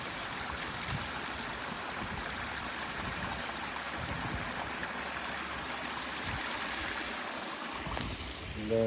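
Water runs steadily off a rock into a pond, a continuous close rushing and splashing that holds evenly throughout with no voices.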